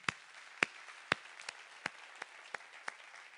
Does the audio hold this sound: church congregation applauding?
yes